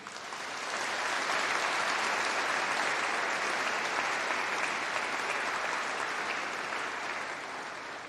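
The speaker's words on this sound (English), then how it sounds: "Everyone give yourselves a round of applause." A graduation ceremony audience gives sustained applause, a dense even roar of many hands clapping that swells in over the first second and holds steady at moderate distance for several seconds.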